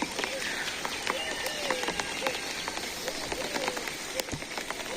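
Steady rain falls on a dark, overcast morning, a dense even patter with scattered sharper drops close by and faint intermittent sounds in the background.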